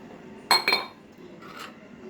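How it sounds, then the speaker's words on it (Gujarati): A spoon clinks twice against a bowl in quick succession while mixing a spice paste, followed by a softer scrape, close up and otherwise quiet. "આ બધું તમારે મિક્સ કરવાનું,"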